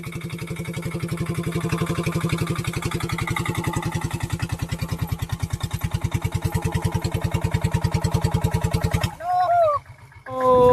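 A tractor engine chugging steadily at a sugarcane field, a fast even low thump that runs for several seconds before cutting out, followed by brief talk and a bit of noise.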